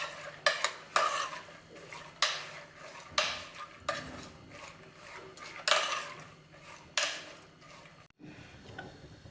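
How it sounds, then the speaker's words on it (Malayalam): Salt and half a teaspoon of turmeric stirred into kayatholi and beans in a pot, with a string of scraping, clinking spoon strokes against the metal at an irregular pace, close and fairly quiet, with no voices. "പിന്നെ 1/2 ടീസ്പൂൺ മഞ്ഞൾപ്പൊടി നന്നായിട്ട് തന്നെ നമുക്കൊന്ന് ഇളക്കി കൊടുക്കാം"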